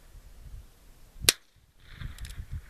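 A single sharp gunshot from a Heritage Rough Rider .22 revolver with a 3-inch barrel and bird's-head grip, fired outdoors. The crack is short, thin and fairly quiet, like a cap gun, and is followed by a brief faint echo.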